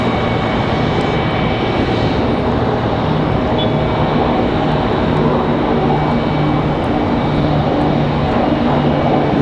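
An airliner takes off at Raleigh-Durham International Airport with a loud, steady jet roar and a low engine drone that hold evenly throughout, close by and without talking.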